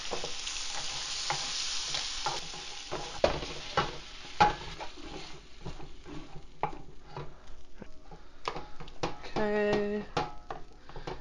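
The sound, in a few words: stirring cooked pasta, shrimp and zucchini with creme fraiche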